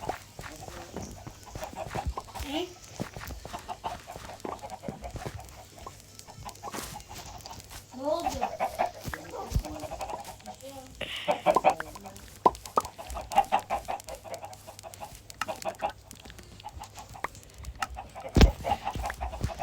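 Minecraft chickens cluck and squawk in a steady stream, with sharper calls now and then, over a low continuous hum and a clicky background.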